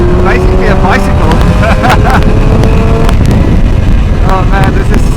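A Yamaha RD400 motorcycle engine roars and revs up and down in quick bursts while riding, overlaid by heavy wind rush at the microphone.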